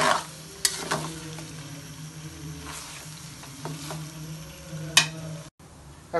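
Meat stir-frying in its own released juices, a steady soft sizzle with occasional scraping stirs and a few sharp utensil clicks against the pan, close by with no talk.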